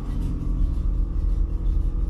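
A steady low hum from the suspension compressor of a 1974 Chevrolet Impala, right-hand drive, heard close by inside the car; a constant, fairly quiet rumble with no talking.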